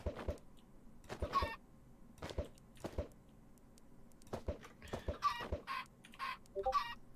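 A Minecraft chicken clucks in short, separate bursts, first spaced apart and then quicker near the end, fairly quiet and alone against near silence.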